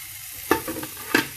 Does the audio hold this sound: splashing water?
no